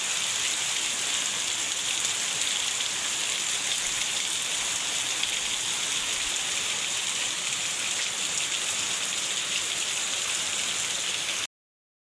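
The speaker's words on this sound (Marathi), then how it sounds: "फणस खाऊ शकत नाही पाऊस पडतोय ना" Steady rain falls, a continuous even hiss of drops on surfaces with no voices, then it cuts off abruptly at the end.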